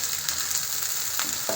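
Goat tripe (pota), already boiled soft, sizzles steadily in hot oil with ginger and garlic in a karahi, a close, even frying hiss with a couple of brief stirring clicks.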